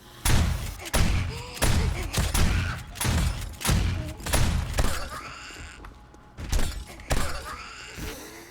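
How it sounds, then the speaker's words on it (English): Repeated shotgun blasts in the survival game 7 Days to Die, heavy booming shots fired in a steady rhythm roughly every half second to second, loud and close, with thuds and groaning zombies between them. "shotgun's tearing up"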